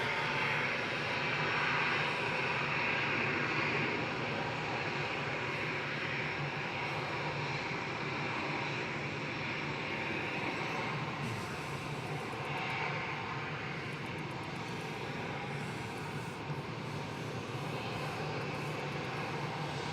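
A Qatar Airways airliner passes close by at Manchester Airport, its engines a steady, loud broadband roar with a high whine that holds throughout, no one speaking over it.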